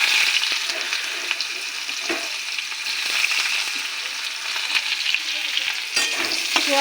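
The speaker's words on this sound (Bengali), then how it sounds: "তেলে ফোড়ন দেব গোটা এলাচ গরম মশলা দারচিনি আর জিরে দিয়ে দেবো পেঁয়াজ কুচি" Whole cardamom, garam masala, cinnamon, cumin and chopped onion frying in hot oil, a steady broad sizzle with occasional stirring scrapes, close and continuous with no talking.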